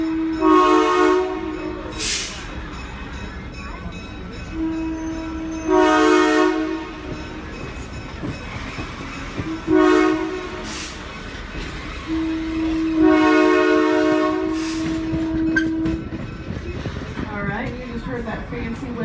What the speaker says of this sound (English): 2 long blasts of the whistle, a short, and another long blast of the whistle means we're at a crossing